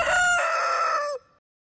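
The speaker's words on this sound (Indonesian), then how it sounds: "Ayam jago." A single rooster crows once, loud and close, a bright drawn-out cock-a-doodle-doo that holds steady before breaking off abruptly into silence.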